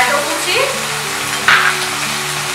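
Chopped tomato hits a hot pan with a loud, close sizzle that swells briefly midway, continuing as a steady fry under light background music.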